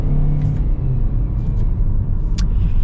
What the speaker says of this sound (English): I'm gonna pop it over into the manual mode and kind of go down a couple.